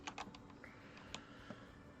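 Fingers tap quickly on a computer keyboard, several crisp keystrokes in a brief burst and then a few scattered clicks. The typing is faint and close by, with no talking over it.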